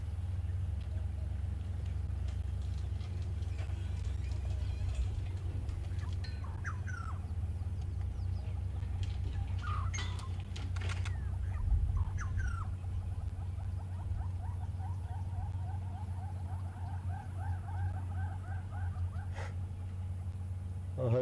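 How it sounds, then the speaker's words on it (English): Yellow-billed hornbills calling in the distance on an evening safari drive, faint repeated clucking series over a steady low vehicle rumble, with a few other faint bird notes. "I hope you could hear those birds calling in the distance there."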